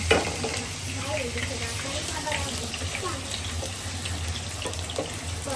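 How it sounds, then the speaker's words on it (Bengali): Potatoes fry in hot oil in a pan, making a continuous, even sizzling hiss up close that lasts the whole stretch, with a faint voice underneath. "আলুগুলো আমরা ভেজে নিচ্ছি, হালকা ইয়েতে নেড়ে দিতে হবে।"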